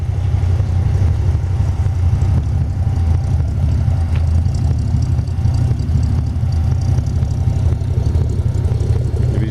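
A 1931 Ford 5W Coupe hot rod engine idles steadily and loudly up close, a dense, even low rumble that holds without a break, with no voices.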